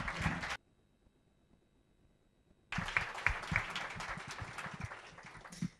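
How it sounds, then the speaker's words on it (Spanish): An audience at a Spanish book presentation bursts into applause after a short quiet pause, dense clapping that stays steady and fairly loud for several seconds. "La recibimos con un fuerte aplauso, como hacemos nosotros."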